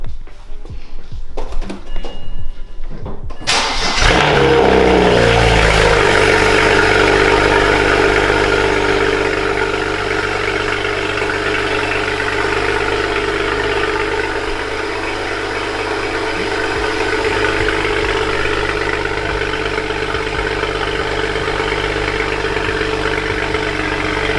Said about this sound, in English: Let's get that cold start real quick.